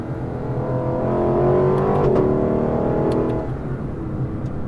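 Lexus LC 500 V8 revving up under acceleration, the engine note climbing and then easing off before settling into a smooth cruising hum, loud and close from inside the car.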